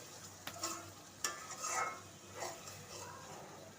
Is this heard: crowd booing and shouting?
no